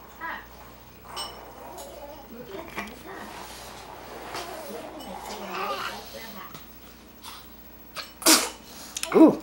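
A single sharp, close sneeze bursts out near the end, following a stretch of quiet indoor rustling and soft voices.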